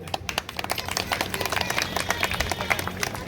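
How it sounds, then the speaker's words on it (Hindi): An outdoor audience at a procession celebrating Baba Saheb's birth anniversary claps as a chief guest is garlanded, giving steady, moderately loud applause with faint voices mixed in. "तालियां बजाइए, तालियां"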